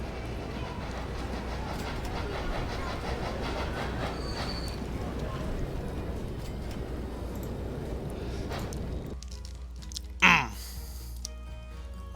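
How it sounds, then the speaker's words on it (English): A train in a railroad video game rolls in with a low, steady rumble and faint clatter, ending in a short sharp squeal near the end. "here comes a train"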